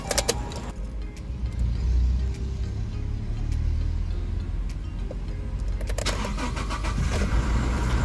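A 2019 Toyota Hilux G automatic pickup starts with a push-button start: a short cranking burst, then the engine catches and settles into a steady, even idle, recorded up close with no talk.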